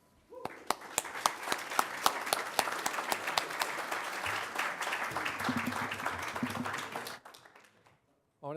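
Audience applause at a finance conference session welcoming Professor Andrew Lo, a steady, full roomful of clapping that swells and holds for several seconds, then stops abruptly, with a voice starting to speak at the end.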